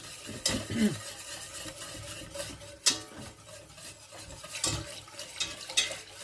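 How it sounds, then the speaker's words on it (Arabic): Cauliflower and potato gratin sauce being stirred with a whisk in a pan, giving soft scraping and clinking strokes with a few sharper metallic taps, fairly faint and steady with no talking. "كنحرك مزيان بلو فوير"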